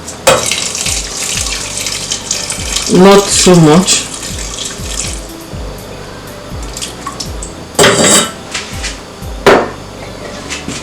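Water poured into a cooking pot while making noodles with eggs, a short splashing pour amid clattering kitchen knocks, with brief talk.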